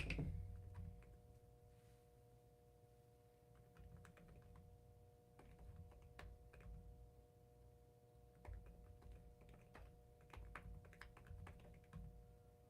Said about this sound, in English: I'm typing without my glasses